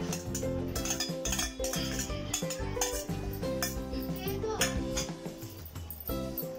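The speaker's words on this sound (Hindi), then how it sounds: "तो इन सभी चीजों को इसमें मिला देते हैं।" A spoon clinks and scrapes in a bowl as chopped coriander, chilli, ginger and onion are mixed into leftover rice, steady close kitchen clatter under background music.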